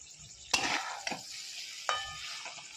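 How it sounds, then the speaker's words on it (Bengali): Chicken sautéing with onion, garlic, ginger and green chili for a white korma crackles in the pan, with a few sharp scraping stir strokes over a soft steady sizzle, close and without talk. "মাংসর সাথে ভালো করে মশলাটা, মানে যেটা পেঁয়াজ, রসুন, আদা, কাঁচা লঙ্কা, ভালো করে কষাবো"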